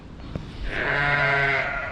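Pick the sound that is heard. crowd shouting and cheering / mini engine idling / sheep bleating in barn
sheep bleating in barn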